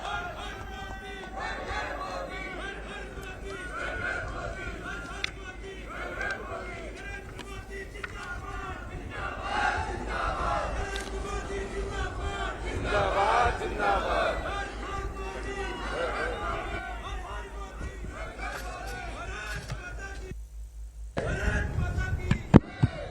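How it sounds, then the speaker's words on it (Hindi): A large crowd at Kedarnath cheers and applauds for PM Modi, a dense, sustained roar of clapping and shouting that swells in the middle and rises again near the end, with voices mixed throughout. "एक बार जोरदार तालियां नरेंद्र मोदी जी के लिए।"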